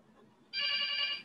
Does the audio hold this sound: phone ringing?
yes